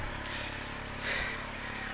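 A tricycle's engine runs with a steady, low droning hum at close range, rising slightly for a moment midway through a short stretch, with no talking.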